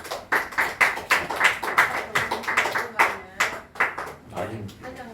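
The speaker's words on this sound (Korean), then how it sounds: "우리 교회 우리 민석훈이 하시면 박수 한번 쳐주세요." A church congregation claps in a quick, uneven rhythm, many hands striking together in distinct bursts close by, with a few voices faintly under the claps.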